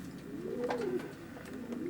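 Racing pigeons coo softly inside a widowhood loft, one low, rolling, throaty call rising and falling near the listener, with no talking.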